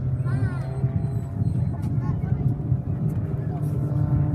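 An RAF Tutor light propeller aircraft in an aerobatic display at an airshow, its engine droning steadily with a varying pitch while a commentator talks over it.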